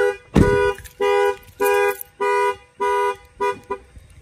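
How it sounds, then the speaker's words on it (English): A Ford Transit van's car alarm blares in repeated short bursts, six or seven loud steady electronic blasts separated by brief gaps, close by. "We'll fire off the alarm."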